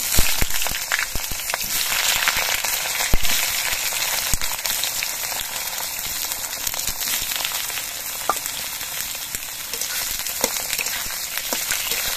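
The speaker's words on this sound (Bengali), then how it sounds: "কড়াইতে যে তেল আছে এই তেলের মধ্যে দিয়ে আমি বেগুনের পিসগুলো ভেজে নিচ্ছি।" Eggplant pieces frying in oil in a wok, a steady close sizzle with scattered pops and crackles throughout, no voices.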